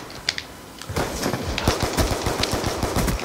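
Rapid automatic gunfire in Call of Duty Black Ops 2, a dense rattling burst that runs steady and loud for about two seconds after a few scattered shots.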